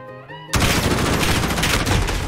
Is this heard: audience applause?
no